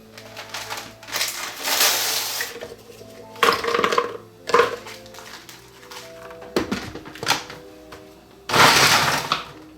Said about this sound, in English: Next, we need to crumble our cookies for the litter.